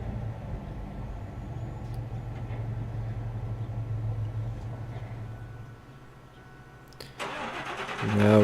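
An old truck engine, long unused, idles with a steady low rumble before a pause, then cranks and catches with a sudden louder roar that builds into a strong, close running note.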